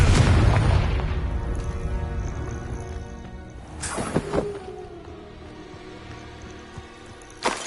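A Confringo fire spell bursts in Hogwarts Legacy, opening with a loud, deep boom that rumbles and fades. A second sharp blast follows midway, and smaller pops trail off after it.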